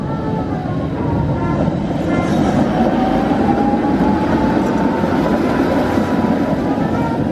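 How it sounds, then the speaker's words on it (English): A New Orleans streetcar rolls past close by, a loud steady rumble and rattle of wheels on track with a faint metallic squeal rising through the middle of the pass. "And here comes the streetcar."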